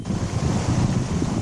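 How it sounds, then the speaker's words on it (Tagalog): Churning rush of a lahar from Mount Pinatubo pouring into a river in Capas, Tarlac, a steady low roaring wash with wind noise on the microphone, brief and continuous. "Rumaragas ang lahar mula sa Mount Pinatubo ang umagos at humalo sa ilog"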